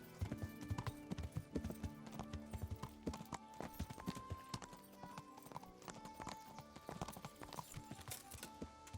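A horse's hooves clop steadily on the ground in the Kingdom Come Deliverance video game, a quiet continuous rhythmic trot over a busy game soundscape.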